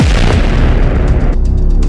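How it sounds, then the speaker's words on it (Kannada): An atom bomb firecracker set off under a metal vessel during Diwali celebrations, a loud, close, booming blast whose roar fills the moment and then drops into a rumbling decay. "ಸೀಕ್ರೆಟ್ ಆ್ಯಂಡ್ ಹಾರ್ಸಕ್ಕೆ ಟ್ರೈ ಮಾಡೋಣ ಅಟಮ್ ಬಾಂಬ್"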